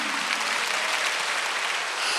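Congregation applause during a Korean church worship service, a steady wash of many hands clapping at even loudness for a couple of seconds, with no voices over it.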